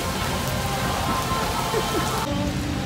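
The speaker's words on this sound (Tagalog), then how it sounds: "Lakas na ulan eh." Heavy rain pours steadily onto a surface in a dense, continuous hiss close by, with a faint voice briefly under it.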